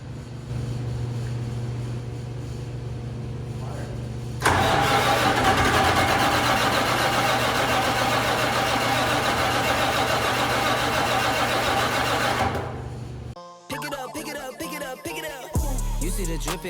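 A truck engine cranks and fires, roaring loud and steady for about eight seconds before the ignition is cut and it dies abruptly, leaving a few scattered mechanical clunks and faint sounds afterward.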